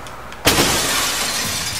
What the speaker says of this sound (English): Oh, can I break this glass?